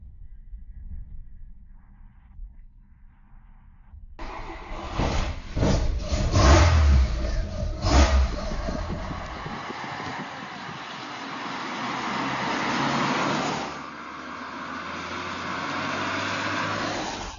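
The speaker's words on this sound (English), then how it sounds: "The car accelerates rapidly, 9 seconds to 100." A Soviet Lada sports car with a rotary engine accelerates hard, its engine noise rising loudly after a quiet start, surging and revving for several seconds before settling into a steady, sustained drone.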